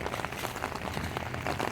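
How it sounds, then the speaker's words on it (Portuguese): Heavy rain pours steadily on surfaces outdoors near a train station in Paranapiacaba, a dense, even hiss with scattered close drop patters, no voices. "A chuva tá forte."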